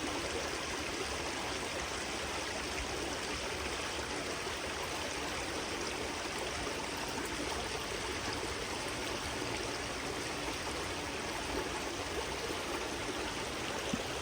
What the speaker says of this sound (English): And we got a babbling brook.